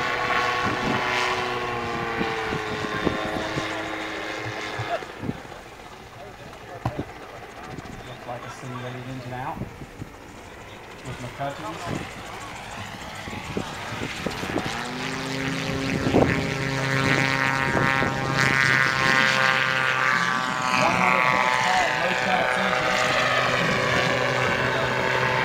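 A gyrocopter flies a display with smoke on, its propeller and engine droning loudly and shifting in pitch as it climbs and banks, with an announcer talking over it.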